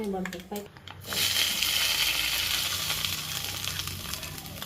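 Hot tempering poured into cabbage tomato peanut chutney hisses up after a brief clatter, then a continuous close sizzle with light crackling that slowly fades as it is mixed in.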